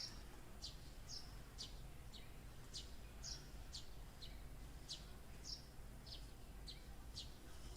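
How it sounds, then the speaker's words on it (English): Faint birds chirp repeatedly outdoors, quick high tweets spaced unevenly over a constant low hum with no voices. "So I guess you heard the birds and the neighbors"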